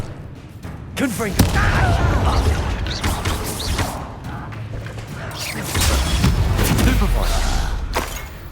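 A Confringo spell explodes in Hogwarts Legacy with a heavy boom and crackling blast, followed by rumbling mechanical game noise and battle effects that stay loud throughout.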